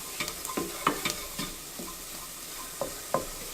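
Flour and butter cook in a pan while a spoon stirs them, producing repeated soft scraping strokes over a faint, gentle sizzle, close and quiet with no talking.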